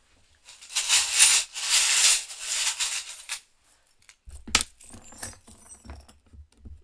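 Small metal divination charms jangle and clink as they are shaken and handled for two to three seconds, followed by sparser close clicks and taps as they drop and settle.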